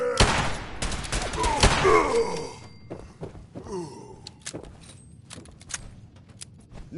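Gunfire in the Fallout 4 video game: several sharp shots burst in quick succession at the start, leaving ringing echoes, and then sparser scattered shots and clatter follow.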